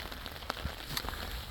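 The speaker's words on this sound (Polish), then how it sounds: "że słońce świeci i deszcz pada" Rain falling outdoors by a lakeside while the sun shines, a soft steady patter with a few sharper drops, faint and with no voices.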